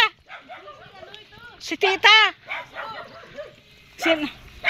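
A few sharp barks and yips from dogs nearby, in short bursts mixed with a person talking.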